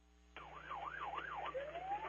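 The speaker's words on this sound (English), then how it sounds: "You can hear all the sirens in the background." Emergency vehicle sirens during the Los Angeles fires, a wailing siren rising and falling steadily, then a rising whoop, fairly faint and distant over a low hum.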